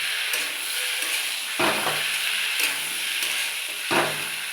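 Cauliflower sizzles and fries in a pan, a steady close hiss broken by three louder stirring scrapes spaced a second or two apart.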